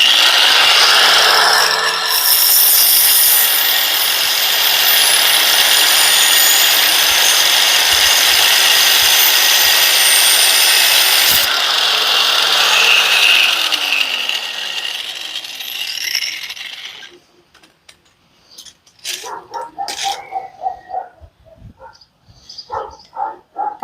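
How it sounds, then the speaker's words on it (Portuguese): Lith 600W angle grinder with a Stanley cutting disc slicing through iron pipe, a loud, harsh, continuous high whine for about sixteen seconds, then the motor winds down and scattered clanks and handling knocks follow. "Vamos segurar aqui, ligar a máquina. Tô com o disco de corte da Stanley."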